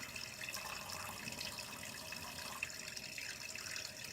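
Tap water runs steadily and softly as a Gillette Sensor 3 razor is rinsed under it during a head shave, a faint continuous splash without talking.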